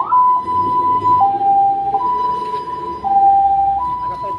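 An ambulance siren wails loud and close in a steady two-tone pattern, alternating between a higher and a lower note about every second.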